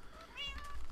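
A cat in a video game gives a short, fairly quiet meow over faint background noise.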